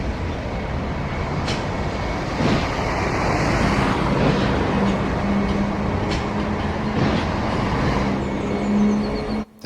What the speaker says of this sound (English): The train is pulled forward again to clear the bunker.